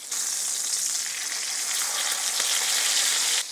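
A steak searing in a cast iron pan, a loud, dense, unbroken hiss of hot fat that holds steady throughout, close up and with no voices.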